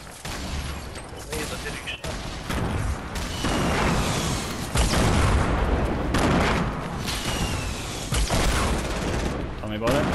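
Dense, loud automatic gunfire from the video game Fortnite Battle Royale, with rapid overlapping shots and booms running nearly continuously for about ten seconds.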